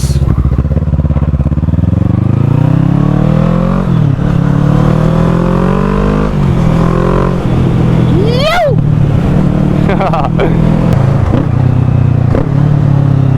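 An Audi A4 engine revving hard from inside the car, rising through the gears with sharp downshifts and blips and a steady loud roar throughout, and a voice briefly cutting in.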